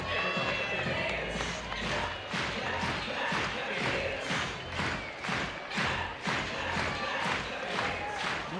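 A packed standing-room crowd murmurs and cheers steadily at a college softball game between Florida and Georgia in Athens, a continuous roar of voices and stadium ambience.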